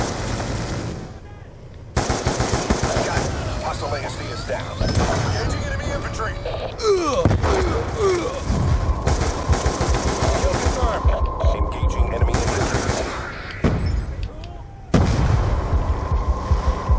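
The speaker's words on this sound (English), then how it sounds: "friendly, stop shooting grenades at me" Dense bursts of automatic gunfire and grenade blasts in the video game Call of Duty Black Ops 2, loud and near, cutting in and out in heavy volleys with a voice talking over the battle.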